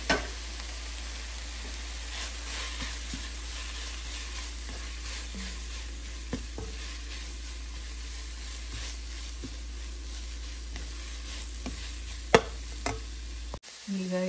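Squeezed, grated bottle gourd goes into a hot pan with oil and is stirred, giving a steady close sizzle and frying hiss with scattered scraping clicks of the spatula, no talk.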